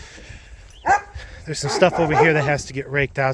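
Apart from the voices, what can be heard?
neighbors' dogs barking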